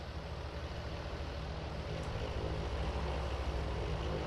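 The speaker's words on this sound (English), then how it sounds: "Quite a loud plane, jeez." Plane flying overhead in Farming Simulator 19, a steady loud engine drone with a low propeller rumble that holds constant throughout, no voices.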